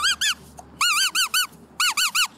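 A voice imitates a soft squeaky toy with bright, rising-and-falling squeaks in three quick bursts of two, four and three, loud and close with nothing else around them.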